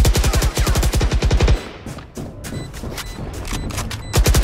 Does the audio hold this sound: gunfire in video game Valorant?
yes